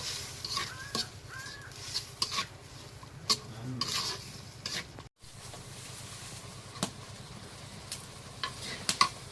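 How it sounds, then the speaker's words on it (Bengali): Goat tripe curry with spices is stirred in a pan, making scraping and rasping strokes against the metal with a soft sizzle beneath and a brief gap partway through. "এখন নাড়া দিই।"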